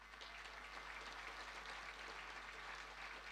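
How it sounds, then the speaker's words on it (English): Audience at an awards ceremony clapping, a dense steady wash of applause that sounds faint and distant, lasting a few seconds with no voices over it. "give yourselves a round of applause"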